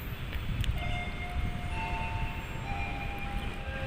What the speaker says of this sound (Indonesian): ini adalah kereta api Papandayan dari stasiun Garut tujuan stasiun Gambir pada pukul 16:59